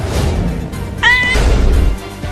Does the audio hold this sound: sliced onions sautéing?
no